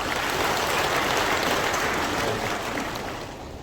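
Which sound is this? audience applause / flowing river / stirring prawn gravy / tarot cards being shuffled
audience applause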